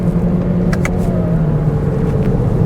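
Toyota Corolla Touring engine pulling in second gear, a steady close hum with a low drone and a brief higher whir, running continuously with no talk.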